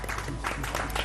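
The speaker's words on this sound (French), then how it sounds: "On l'applaudit bien fort." Studio audience applauding loudly for a guest being welcomed onto a French television variety show, a dense, steady wash of clapping with no voices.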